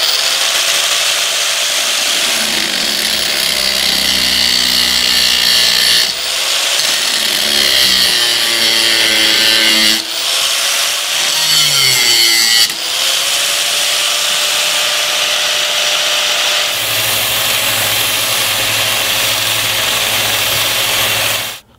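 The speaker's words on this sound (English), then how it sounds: "got my angle grinder here. I'm going to just lightly snip those two tabs off." An angle grinder cuts the steel bayonet tabs off a Mosin Nagant rifle, a loud, continuous high-pitched grinding whine that shifts pitch as the disc bites and eases across the metal, close up and with no talk.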